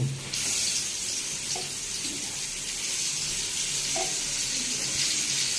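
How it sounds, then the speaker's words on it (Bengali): Eggplant slices frying in a pan give a steady, close hiss of sizzling oil that runs throughout with no talk. "এই যে গাইস বেগুন ভাজা হচ্ছে।"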